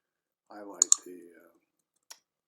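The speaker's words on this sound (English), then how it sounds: "The mouse clicks are the indication I'm actually doing something with the computer." Computer mouse clicks during work on a computer: two quick sharp clicks close together, then a single click a moment later, with a short stretch of voiced murmur beneath the first pair.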